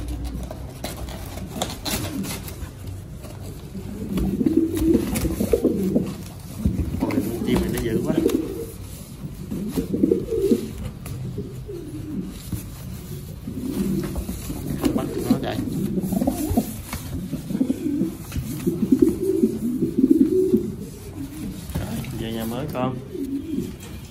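Mondain pigeons in a new cage coo in repeated low, throaty bursts at close range, with rubbing and scraping movement sounds mixed in throughout.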